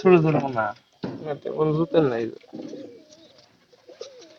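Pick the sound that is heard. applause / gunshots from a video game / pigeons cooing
pigeons cooing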